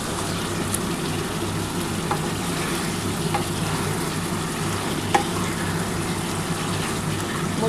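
Goat meat spice paste with tomato sizzles loudly in a pot while being stirred, with steady frying hiss and a few scraping clicks of the spoon, no voices.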